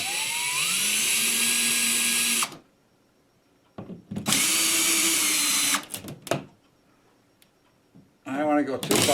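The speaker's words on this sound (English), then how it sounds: "I'm going to back these screws out." Power drill backing screws out of a ceiling speaker grille in a home theater install, in several loud sustained whirring bursts with quiet gaps between, rising in pitch as each spins up.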